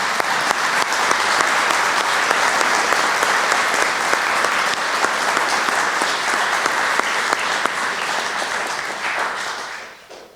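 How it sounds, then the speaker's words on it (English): Sustained applause fills a chamber at a judicial mental health commission press conference, steady and dense for about ten seconds before tapering off at the end. "Let's give them the big round of applause they never get in this chamber"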